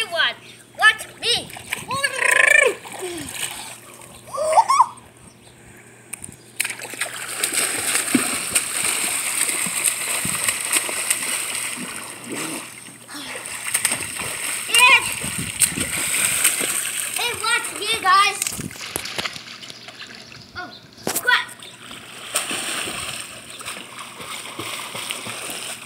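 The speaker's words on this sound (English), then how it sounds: "I'm going to swim underwater. Watch me." A young child splashing and swimming underwater in a pool, with repeated close sloshing bursts of water, while children's voices and adult chatter carry on throughout.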